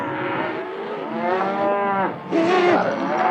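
Cattle at a fall roundup on a northeastern Wyoming ranch let out long, loud moos one after another, some deep and drawn out and others higher and more strained, with nearby herd noise and no talk.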